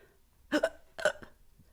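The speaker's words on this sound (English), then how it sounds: "you hear a hiccup come out of this" Two short, close hiccups are spaced about half a second apart in a quiet room, each a sharp voiced catch, with a faint third catch trailing after them.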